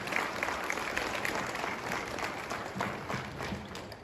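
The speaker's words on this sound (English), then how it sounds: "give you a round of applause for that" A crowd applauds steadily at a 5K charity run event, a dense wash of clapping that holds for several seconds with no voices on top.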